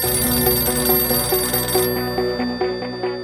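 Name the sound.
telephone ringing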